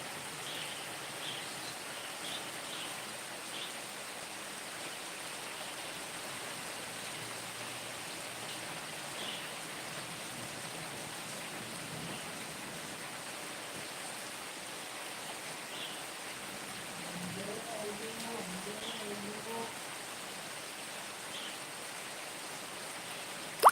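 Steady rain falls outdoors in Kerala during a storm, a soft, even hiss of drops that stays faint and constant for the whole stretch with no talk over it.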